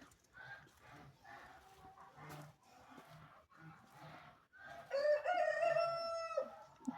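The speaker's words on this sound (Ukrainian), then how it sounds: "Півні співають." Outdoors on a cold countryside morning, a rooster lets out a loud, close crow with a long drawn-out final note. Before it, someone talks quietly over faint background clucking.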